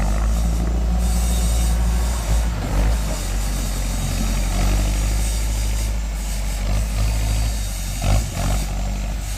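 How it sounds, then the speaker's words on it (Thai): A Kubota M5000 farm tractor's diesel engine runs steadily during a functional test, a loud close low rumble with slight fluctuations and no talk. "ทดสอบระบบการทำงานของรถไถ M 5 0 0 0ครับ"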